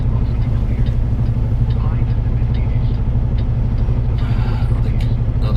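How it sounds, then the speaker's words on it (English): A truck rumbles past on a road during a winter storm, giving a steady low engine drone that holds throughout, with voices faintly underneath. "Let's wait until that truck passes by to see what's going on."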